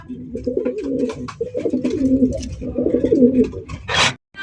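Pigeons coo in repeated soft, throaty phrases close by, with a few brief rustles and a sharp flutter near the end.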